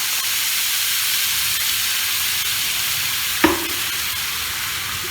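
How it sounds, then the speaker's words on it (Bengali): A little hot water hits a pan of frying bitter gourd and potato, giving a loud, steady hiss of sizzling and steam throughout, with one short clatter partway through. "অল্প জল দিলাম, এই জলেই আমার হয়ে যাবে।"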